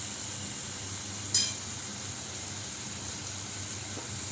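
Bathua greens go into a pan of potatoes and peas. The frying gives a steady, close hiss and sizzle, with a brief sharp clatter early on and no talking.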